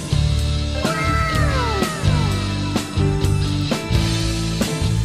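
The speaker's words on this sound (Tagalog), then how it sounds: "naging distortion na yung tunog ng kanyang gitara" Distorted electric guitar in a rock cover wails with sliding, bending lead notes over a steady band backing of drums and bass, loud and continuous.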